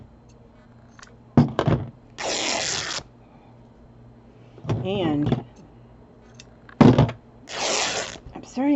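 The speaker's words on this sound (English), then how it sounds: "Quit clunking them scissors" Scissors clunking against a work surface while cutting pieces for a boho bag, giving a few sharp knocks set between bursts of rustling and short spoken remarks.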